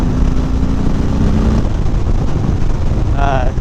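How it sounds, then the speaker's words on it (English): A 2018 Harley-Davidson Softail Slim motorcycle rumbles loudly on the road, its exhaust a steady, close low drone mixed with wind noise, with a brief voice near the end. "it does have a little bit of a different sound to the exhaust than the lowrider did"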